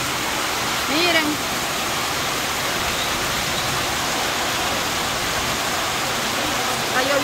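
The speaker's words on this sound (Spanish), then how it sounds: "Está lloviendo súper recio." Heavy storm rain pours down in a loud, steady hiss that fills everything, with a brief voice faintly heard beneath it.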